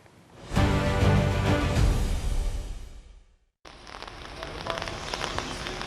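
Heavy rain pours down in a dense, loud, steady hiss that swells in after a quiet start, cuts out briefly, then resumes at a slightly lower level.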